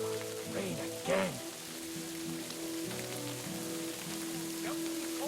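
Steady rain falls in Kingdom Come: Deliverance 2, a soft continuous hiss under a low hum and a few brief voice-like sounds, faint and even throughout.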